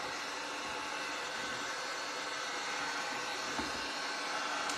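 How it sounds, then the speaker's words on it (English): A steady, loud blowing hiss like a hair dryer running continuously, broadband and unbroken throughout, with no talking. "get your dryer out"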